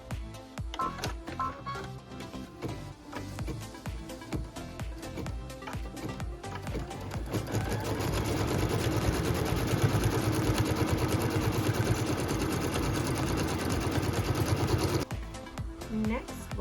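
A sewing machine tacking down a quilt fabric piece: quiet clicks and handling at first, then a fast, even mechanical whir of stitching for several seconds before stopping, with a voice talking alongside.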